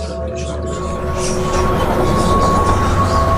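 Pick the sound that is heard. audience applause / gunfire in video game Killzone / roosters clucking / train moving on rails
train moving on rails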